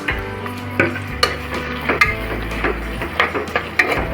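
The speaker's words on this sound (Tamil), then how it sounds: "வெங்காயம் நல்லா கலர் செஞ்ச வரைக்கும் நல்லா வதக்கிக்கலாம்" Onions sautéed in a pan for mutton dum biryani, with close, repeated spatula scrapes and knocks over a steady background sizzle; no speech.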